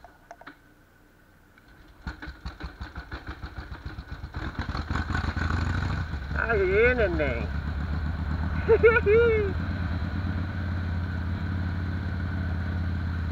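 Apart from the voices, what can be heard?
Harley-Davidson Dyna Super Glide motorcycle engine starting and idling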